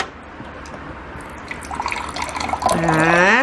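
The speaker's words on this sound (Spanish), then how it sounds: "Ah, y sale del agua." Water runs from a kitchen tap into a glass, starting as faint splashing and rising into a louder, steady pour whose pitch climbs as the glass fills.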